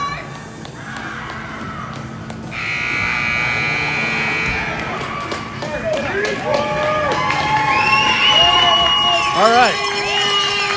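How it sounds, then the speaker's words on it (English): Noisy arena crowd at a youth squirt hockey game before the third period, a continuous hubbub with whistles and electronic tones rising toward the end, while a nearby voice talks over it. "Crowd is excited."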